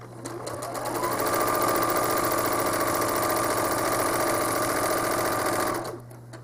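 A home sewing machine stitches a quilt with a steady, fast mechanical whir that starts abruptly, runs evenly for several seconds close up, then stops.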